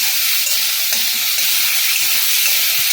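Steady, loud sizzling of prawns frying in hot oil, a continuous crackling hiss with small pops throughout and no voices.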